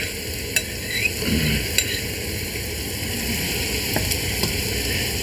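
Meat and carrots sizzle in a pot for a Bolognese-style sauce, a continuous close frying hiss broken by a few sharp scrapes as the mixture is stirred, with no one speaking.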